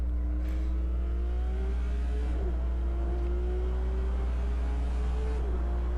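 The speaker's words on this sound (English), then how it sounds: "That upshift sounds real good. The audio on here sounds really good inside the car." A race car engine in a console racing sim drones steadily inside the cockpit, its pitch climbing and dropping sharply at each upshift, three or four times in a row.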